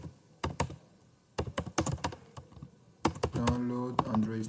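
Clicky computer keyboard typing in irregular bursts of sharp, close keystrokes with short pauses between, and a person begins talking over the final keystrokes.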